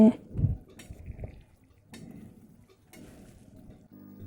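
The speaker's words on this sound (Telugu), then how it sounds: "ఒకసారి బాగా కలిసేంతవరకు కలుపుకొని మూత పెట్టుకొని" Drumstick and tomato curry stirred in a pot before the lid goes on. Close metal clinks and scrapes come in a few scattered bursts, with quieter rustling between them.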